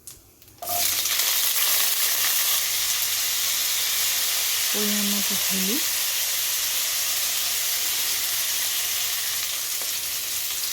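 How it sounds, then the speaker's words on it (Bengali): Steamed drumstick pieces fry in hot oil with black cumin in a pan, a steady loud sizzle that begins abruptly and continues throughout, with brief talk partway. "এবার আমি ভাপিয়ে রাখা সজনাটা এর মধ্যে দিয়ে দিলাম"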